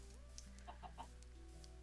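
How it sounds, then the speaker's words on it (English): Chickens in Minecraft give a few short clucks over a quiet, steady background of game music tones. "got some chickens here"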